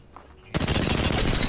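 Gunfire in Apex Legends: after a quiet moment, a loud sudden burst of rapid automatic shots fires continuously to the end, dense and close.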